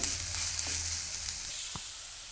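Onions and green chillies frying in a pan, a soft continuous sizzle with a couple of faint stirring scrapes, fairly quiet and with no talk.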